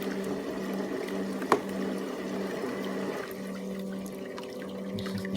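A Brookstone foot spa on its lowest airflow setting drives air jets through the water, a steady close bubbling hum with a motor tone and one sharp knock partway through.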